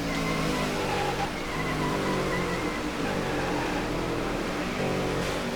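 Race car engine from the NASCAR '15 video game droning steadily and loud while entering pit road at the Quaker State 400, with continuous mechanical roar and slight tire noise, no voices.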